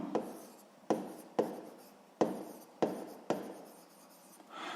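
Handwriting on paper while working a sixth-grade math exercise: a series of about six scratchy pen strokes, each starting with a crisp attack and trailing off, close and quiet with no talking.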